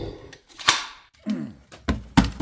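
Rusty old stapler firing staples, a few sharp dry clicks and clacks spaced out over a couple of seconds, close up and alone.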